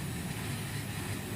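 A vacuum pump running steadily on the refrigeration line of a freezer box during evacuation, giving a continuous low mechanical hum that stays even and close throughout.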